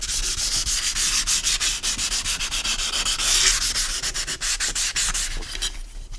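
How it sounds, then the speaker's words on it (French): Abrasive sandpaper rubbed on a hydrofoil wing, a loud, close, steady rhythm of rapid back-and-forth scraping strokes with no voices. "Donc là on va être obligé en fait de poncer un petit peu de biais."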